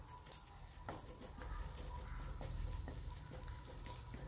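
Curry leaves and urad dal frying in hot oil for a tempering, a continuous close sizzle with scattered crackles and spits, swelling in the middle with no talk.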